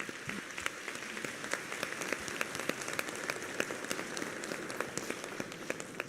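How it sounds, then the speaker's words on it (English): A conference audience claps for the panelists of a generative AI governance session. The applause is sparse and fairly quiet, with distinct individual claps standing out over a soft, steady patter for about six seconds. "So please give the last round of applause for all the panelists."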